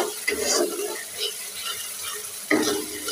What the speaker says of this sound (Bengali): মশলাটা সুন্দর করে কষিয়ে নিচ্ছে